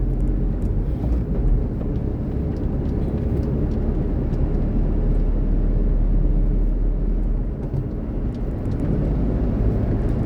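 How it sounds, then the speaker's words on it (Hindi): A Maruti Alto K10 accelerates in fourth gear, heard from inside as a steady low engine drone mixed with road rumble, with no talking. "एक्सेलरेशन आप चेक कर सकते हो 4th गियर में ये।"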